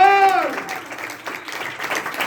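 A church congregation bursts into loud applause, a dense wash of clapping that follows a brief voice fading out at the start and then fills the room steadily.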